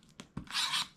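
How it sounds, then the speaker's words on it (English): A tape runner lays adhesive tape onto a paper craft piece: a couple of soft taps, then a close, steady rasping strip for about half a second. "I am going to take my tape runner"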